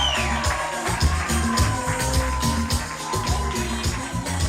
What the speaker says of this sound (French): je vous demande d'applaudir Sandrine K et sa collection.